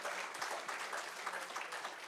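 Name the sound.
audience applause for participating girls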